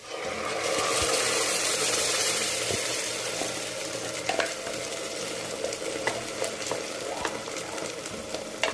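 A handful of curry leaves frying in hot oil for a tomato curry, giving a loud, continuous crackling sizzle that eases slightly, scattered with sharp pops and the scrape of a stirring spoon.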